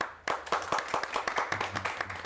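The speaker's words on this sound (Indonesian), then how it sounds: "Tepuk tangan dulu lah." Audience clapping for an introduced guest, the Secretary of the South Halmahera Tourism Office, at a talk-show event; a brief burst of scattered, fairly distinct hand claps from a small crowd, moderately close.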